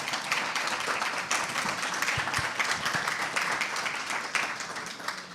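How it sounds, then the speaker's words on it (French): Audience applause at the close of a round table discussion at a French digital industry event, steady and moderately loud clapping from a crowd that fills the clip without a break. "Vous pouvez les applaudir bien fort."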